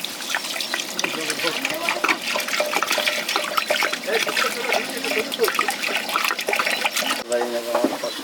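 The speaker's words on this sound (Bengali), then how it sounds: "ভাতে জল দিয়ে দিই আমি চাল চাপিয়ে দিয়েছি জল জল দিয়ে দিই" Water poured into a pot of rice being cooked for an outdoor picnic meal, a steady splashing gush that runs the whole time under a busy background, ending with a short burst of other sounds.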